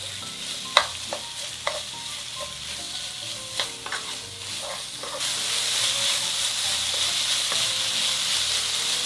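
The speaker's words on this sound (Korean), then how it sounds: "마늘 1큰술 넣고 같이 볶아주세요." Garlic stir-fries in a pan with the meat. Spoon taps and scrapes come at first, then a strong, even hiss of frying rises and holds close and loud to the end, with no talking.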